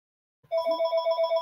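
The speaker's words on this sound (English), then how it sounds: "I'll let the phone ring here. Because I don't want to answer it while obviously I'm on." A telephone rings close and loud after a moment of silence, its bright electronic trill pulsing rapidly and steadily with no answer.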